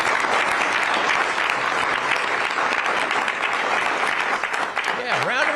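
An audience breaks into steady, loud applause after a president's remarks, a dense wash of clapping throughout, with a voice briefly rising over it near the end.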